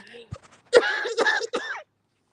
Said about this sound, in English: You might have been in the middle of coughing.